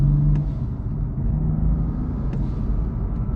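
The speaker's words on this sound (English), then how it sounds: "I love how you can hear all the intake noises from the front there, which is quite insane and exhilarating" A 2017 BMW M4 Competition accelerates hard from inside the cabin, its intake noise forming a loud, steady low rumble and engine hum that carries on without speech.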